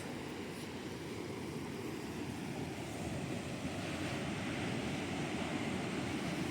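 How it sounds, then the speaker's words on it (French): Waves rolling onto Stidia beach in Algeria make a steady, broad wash of surf, continuous and fairly distant with wind mixed in, no voices. "Mais il y a les vagues un peu aujourd'hui"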